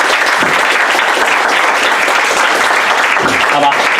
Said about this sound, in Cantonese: 好俾掌聲自己